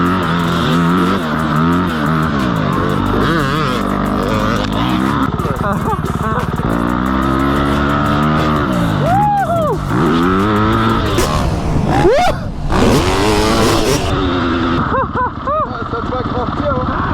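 A Yamaha motocross bike on a dirt track revs hard. Its engine climbs and falls through several sweeping throttle surges, loud and close, with occasional voices in between.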